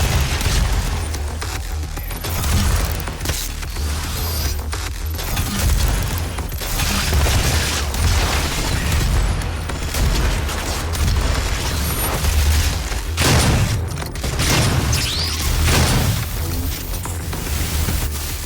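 Dense, continuous gunfire and booming explosions fill a fight against the Mastermind boss in the video game Doom 2016, with heavy blasts layered throughout and no letup.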